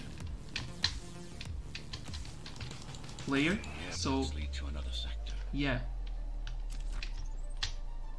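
Keyboard clatter from a player typing on a computer keyboard during a parkour ninja game demo, with quick clicks and taps scattered throughout while someone talks, close and fairly loud.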